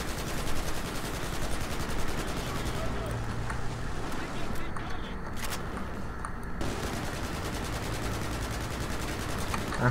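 Automatic and rapid gunfire in the video game Battlefield 4, continuous bursts of shots layered with game noise, easing briefly midway before resuming, while a player talks over it.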